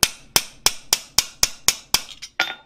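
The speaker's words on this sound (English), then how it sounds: "we will continue to just hammer right on back" A metal chasing tool struck repeatedly with a hammer while planishing a cut, giving about nine sharp, close ringing metallic taps in a steady rhythm, the last few quicker and slightly uneven.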